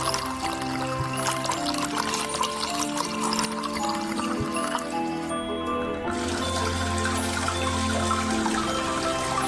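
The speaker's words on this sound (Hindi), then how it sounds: "एक बड़े सॉसपैन की जरूरत है जिसमें सारा शराब डाल सकते हैं" Alcohol pours into a large saucepan as a steady trickling stream, running continuously at close range with small drips and splashes, no voices.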